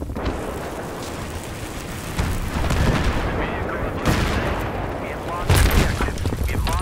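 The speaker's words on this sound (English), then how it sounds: "I just got mortared." Mortar blasts and heavy gunfire rumble through a battle on the Kharg Island map of a military video game, with broad booms around the middle and near the end over constant combat noise and talking voices.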